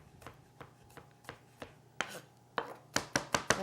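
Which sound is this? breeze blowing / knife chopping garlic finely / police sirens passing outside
knife chopping garlic finely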